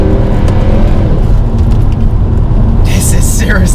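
Mercedes C63 AMG V8 engine pulling hard under acceleration from inside the car, a dense steady low growl with a brief sharper burst near the end.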